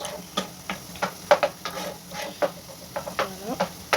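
Pasta sauce simmers and sizzles in a pan while a spoon stirs it, producing a steady bubbling hiss with rhythmic scraping strokes, close and moderately loud.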